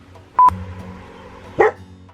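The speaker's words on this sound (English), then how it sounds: "No barking! Stop! Stop it!" Two sharp dog barks close by, about a second apart, with a faint tone and low background hum between them and no talking.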